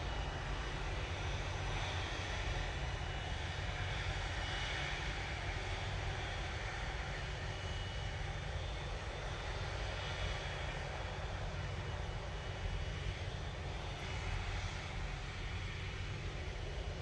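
A Ryanair airliner arriving at Manchester Airport produces a distant, steady broadband engine roar that holds at a low, even level throughout without pause.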